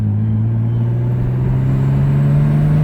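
Nissan Skyline engine running during a drive after a fuel filter change, a loud, steady low rumble with the pitch slowly rising as it gathers revs, no voices.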